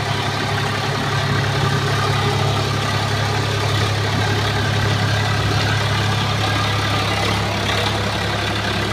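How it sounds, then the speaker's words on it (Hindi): A Swaraj 742 FE tractor ploughs a field with a rotavator cutting the soil, its engine droning loud and continuous at a steady low pitch with a dense mechanical rattle over it. "रोटावेटर से मिट्टी को काटते हुए काफ़ी अच्छी खासी जुताई करता हुआ ट्रैक्टर।"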